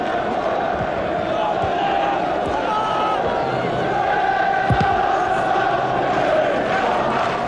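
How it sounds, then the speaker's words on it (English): Football crowd at a 1994 League Cup semi-final between Sheffield Wednesday and Manchester United, United fans applauding and cheering Giggs; a steady, dense roar of stadium noise fills the whole stretch without letup. "Manchester United fans at that end rise to applaud the, well, brilliance is no other word,"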